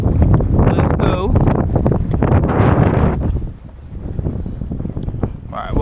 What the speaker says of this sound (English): but I guess here comes the wind again